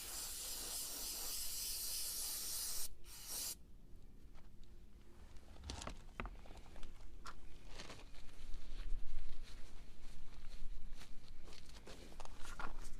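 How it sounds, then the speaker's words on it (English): A spray cleaner hisses in bursts onto removed BMW M54 double Vanos parts, a steady close airy spray with short pauses and a few light clicks of the trigger and handled metal parts. "We're going to take our cleaner and we're going to spray it all out."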